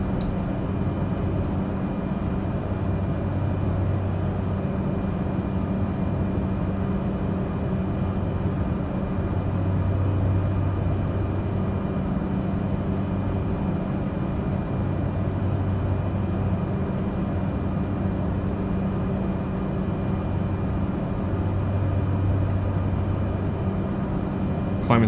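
A Cessna 208B Grand Caravan turboprop engine drones steadily in flight in the Microsoft Flight Simulator 2020 game, a continuous, even, loud hum that holds unchanged throughout.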